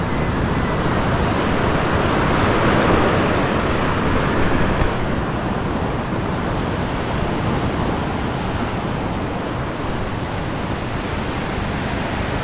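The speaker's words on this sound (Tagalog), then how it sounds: "malalaki po ang alon na yan" A continuous broad roar of surf washes in, loud and close, with wind buffeting the microphone and no voices.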